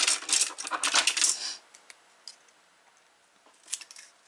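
Scissors or a blade cut through thin cardboard for a storage unit, with a quick run of crisp snips and rustles at the start, then a few faint clicks.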